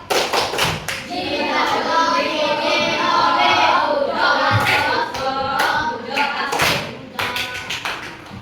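Pupils in a primary classroom perform a rhythmic clap game, quick crisp claps in patterned clusters at the start and end, with children's chanted voices filling the middle, close and loud.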